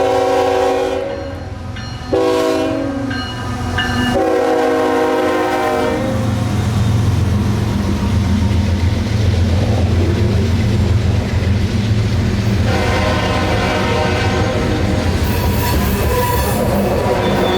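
CSX freight train Q442, led by locomotive 3440, sounds a loud horn in several long blasts, then rumbles past close by with wheels grinding and squealing on the rails.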